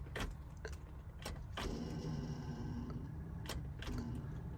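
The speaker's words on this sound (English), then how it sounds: "Got some groaning from, I don't know if it's a blower motor." A dead-battery 454 big block gives a few faint, sharp clicks over a steady low groan from a blower motor, a close, continuous drone with intermittent ticks and no talking.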